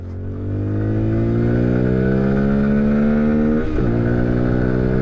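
A 2024 CFMoto Papio SS, 126cc single-cylinder air-cooled, accelerates at full throttle, its engine note climbing steadily in pitch, dropping briefly at a gear shift, then rising again, loud and close.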